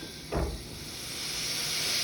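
Continuous loud sizzling from a hot pan, a broad hiss that swells slightly, with a brief thump near the start.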